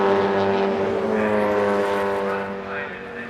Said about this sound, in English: And more tyre squealing in the background